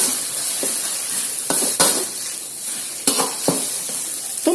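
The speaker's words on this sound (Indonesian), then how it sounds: "Tumis bumbu halus dulu" Ground spice paste sautéing in oil for an octopus dish produces a loud, close sizzle with repeated scrapes and knocks as it is stirred in the pan, and no one speaks.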